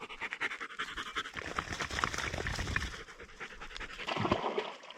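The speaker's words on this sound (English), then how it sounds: "there's a couple of hunting dogs just running at me" A hunting dog pants rapidly and heavily up close in hot weather, a continuous run of quick breaths with faint scratching in the background.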